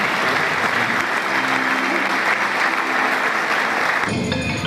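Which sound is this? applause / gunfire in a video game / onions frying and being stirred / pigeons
applause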